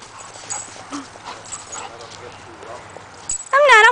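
Dogs playing with yips and small whines amid scuffling, a person's voice talking over them, ending in a louder high-pitched yelp or squeal.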